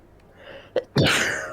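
A person sneezes once, close and loud: a brief inhaling catch, then a sharp explosive burst that trails off, with no talk.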